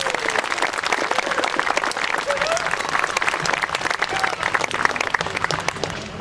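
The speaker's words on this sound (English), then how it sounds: "One more round of applause for all three of those groups." Outdoor crowd applause at a Memorial Day parade, a dense, steady patter of many hands clapping continuously throughout with scattered distant voices beneath.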